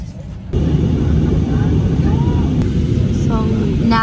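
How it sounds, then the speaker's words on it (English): At an airport, a passenger airplane's jet roar cuts in abruptly and holds loud and steady, with a person talking over the noise. "Oh, look. That's the plane I'm getting on."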